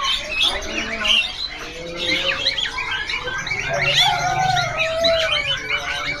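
Male and female Pelatuk Bawang birds call from a shop's stock, a busy layer of squawks, chirps and tweets running throughout at close range, with other birds adding lower coos underneath.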